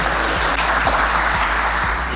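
Audience applause at a foreign trade and logistics seminar in the Dominican Republic, welcoming Dr. Fabián Villarroel Ríos to the stage: a steady, dense wash of clapping that fills the room for about two seconds over a low hum.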